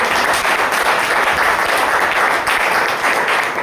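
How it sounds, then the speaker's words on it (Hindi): Dense, loud applause fills a company profile event hall in Jaunpur, steady and continuous from start to finish with no voices standing out. "जोरदार तालियां होनी चाहिए"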